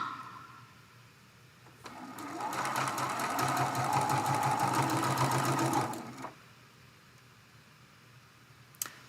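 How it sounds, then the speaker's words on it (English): A sewing machine stitches a Dresden Plate quilt block made from charm pack fabric, a close, steady rapid whirring run of about four seconds, with quieter handling sounds before and after. "Sewing along, sewing along."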